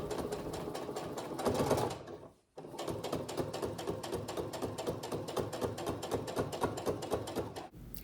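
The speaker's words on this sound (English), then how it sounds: "Next, I do a nice top stitch along the edge there," A sewing machine top-stitches along the edge of an upcycled quilt coat, running in a steady close rapid whir of needle strikes, pausing briefly once before starting up again and carrying on.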